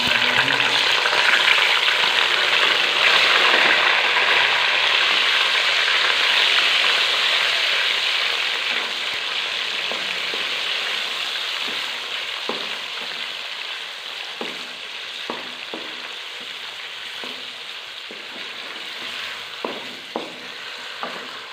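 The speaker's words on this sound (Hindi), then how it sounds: "हमारा घी गर्म हो चुका है, इसमें हम शामिल करेंगे चिकन।" Chicken pieces sizzle loudly in hot ghee in a pan for a desi chicken and turnip curry, a steady broadband frying hiss that eases slightly over time, with occasional clicks and scrapes of stirring and no talking.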